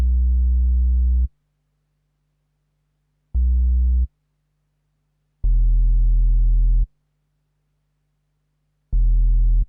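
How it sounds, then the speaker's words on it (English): A deep, pure sine-like bass from an FL Studio beat breakdown plays four long sustained notes with gaps of silence between them, loud and clean with no other instruments. "just added a new bass that sounds like this"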